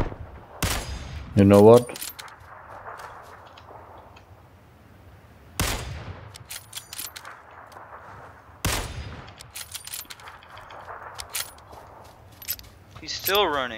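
Gunfire in the battle royale game PLAYERUNKNOWN'S BATTLEGROUNDS, a few sharp isolated shots and a short burst spaced several seconds apart over a quiet backdrop, with a player speaking briefly.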